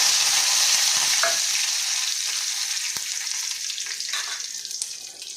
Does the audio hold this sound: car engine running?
no